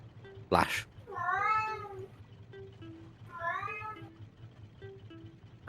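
A human voice imitates a cat, giving two drawn-out, wavering meows about two seconds apart over a steady low hum, with a sharp click just before the first.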